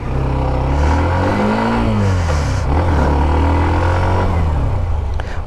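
A Hero Xtreme 125R 125cc motorcycle engine restarting and revving, a loud, steady, close engine drone that rises and falls in pitch through several revs, with no talk.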